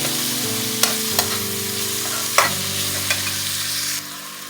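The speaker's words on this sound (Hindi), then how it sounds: "अब टमाटर को भी हल्का नरम होने तक पका लेंगे।" Chopped tomato cooks with onions in a pan with an even sizzle, joined by a steady mechanical hum. A few sharp clinks of a stirring utensil come and go before the hum drops away near the end.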